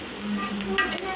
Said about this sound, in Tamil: மஞ்சப்பொடி உள்ள போட்டு நல்லா கிண்டிக்கலாம்.